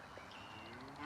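Faint geese honking on a large family homestead, a few nasal calls carrying from a distance over a low background.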